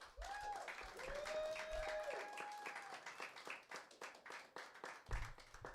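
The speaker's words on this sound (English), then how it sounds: "please put your hands together for a dear friend, Mr. John Henry" Applause at a weekly pre-Christmas comedy night as an act is welcomed to the stage, steady clapping from a bar crowd with a voice talking over it and faint tones running through the first seconds.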